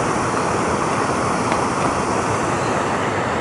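A river flows in a broad, steady rush of water noise that stays constant and loud throughout, with nothing else standing out.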